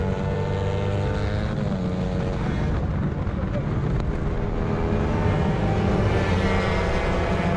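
Honda 125 two-stroke road-racing motorcycles scream by in a steady, loud, high-revving drone at a racetrack, with a race commentator talking over the engine noise.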